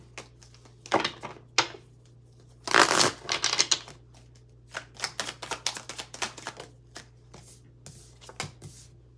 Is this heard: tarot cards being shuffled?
yes